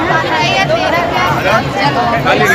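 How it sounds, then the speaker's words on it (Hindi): Dense crowd chatter fills a busy Hunar Haat craft fair in Lucknow: many overlapping voices form a steady, close hubbub with no single speaker standing out. "कितनी ज़्यादा भीड़ है"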